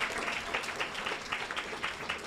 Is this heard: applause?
yes